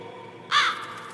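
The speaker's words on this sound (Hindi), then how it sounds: "कौवा अपनी गर्दन टेढ़ी करके उसको देख रहा होता है। दोबारा आवाजें लगाता है" A single crow gives one loud, harsh caw over a faint, steady background hum, the call brief and close.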